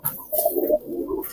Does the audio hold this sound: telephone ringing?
no